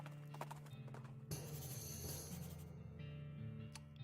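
Horse hooves clip-clop at a steady walking pace in West of Loathing, close and fairly loud, with a brief whinny and game music in the background.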